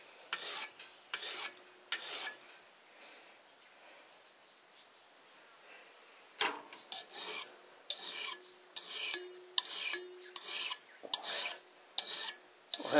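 A hand file rasps along the edge of a French butcher knife in repeated strokes, a few spaced scrapes, then a pause, then a steady run of bright rasping passes, close and clear.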